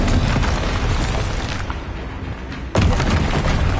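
A spell impact from the Descendo charm in the video game Hogwarts Legacy, a heavy booming burst with a sharp renewed blast near the end, loud and close, with no talking.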